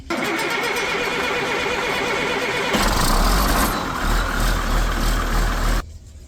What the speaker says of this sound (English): So we'll start up our engine and we'll get the system up and going.